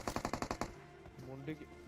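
Rapid burst of about eight automatic gunshots from a team's cover fire in a mobile battle-royale shooter, loud and evenly spaced, then cutting off into quieter game sounds and low tones.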